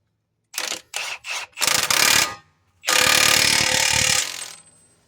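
Ratcheting on the driver-side CV axle nut of an AWD Infiniti G35 during axle replacement: three short close clicking bursts, then a longer run of rapid ratchet clicks, loud and without talk.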